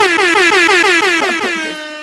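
A loud air horn sound effect blares continuously for about two seconds, a bright, sustained, slightly warbling honk with no voices over it.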